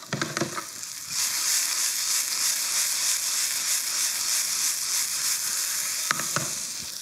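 Small meatballs fry in a pan with a steady, loud sizzle that fills the scene, opening and closing with a few clattering knocks as the pan is shaken or stirred.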